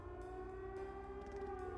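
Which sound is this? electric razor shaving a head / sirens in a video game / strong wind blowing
sirens in a video game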